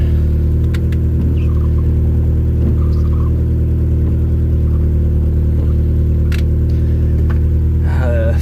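Suzuki Sidekick with a 3-speed automatic and 4WD transfer case idles with a loud, steady low engine rumble that runs continuously throughout, with faint clicks and a brief rise near the end.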